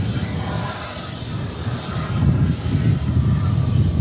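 A big jet airliner roars at DFW Airport, a loud, close, broadband engine rumble that swells and grows stronger as the plane passes.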